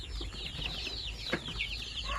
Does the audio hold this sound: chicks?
yes